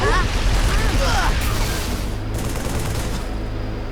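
Turret gunfire in the Halo video game, a dense burst of rapid shots with booming low rumble and whistling tones, loud and continuous, with a voice speaking briefly over it.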